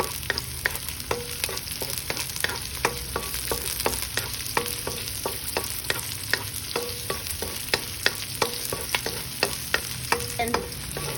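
Onions and spring onions stir-frying in a pan for a chicken and green bean stir-fry, with a sizzling hiss broken by quick, regular scraping strokes of the spatula, up close and with no talking.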